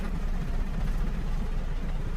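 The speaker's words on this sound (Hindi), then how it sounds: "तो अभी एक ट्रैक्टर और आ गया है" Tractor passing on a village road: a continuous low engine rumble with an uneven throb, moderately loud and close, with no talking.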